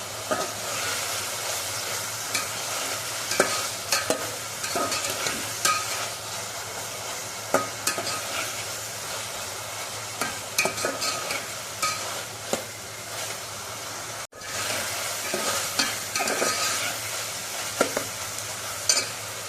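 Ginger garlic paste sizzles and fries in a pan while being stirred, a continuous loud hiss with scraping stirring strokes, close up and without talk.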